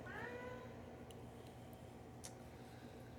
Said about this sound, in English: I really do wish the cat would just hush